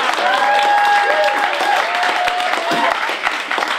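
At a 2015 slam finals, a crowd claps, cheers and lets out loud whistling shrieks to score an outfit, forming a continuous, dense roar that stays strong for the whole stretch.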